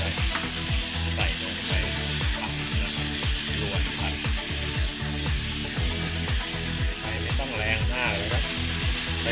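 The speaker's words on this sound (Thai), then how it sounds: "ก็ทำการผัดไปเรื่อยๆนะครับ" Steady hot-oil sizzling with quick, regular scraping strokes of a spatula in a pan, close and continuous, as chicken is stir-fried with garlic and pepper.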